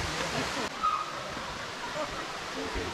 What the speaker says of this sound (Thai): เราอยู่ตรงน้ำตกชั้น 4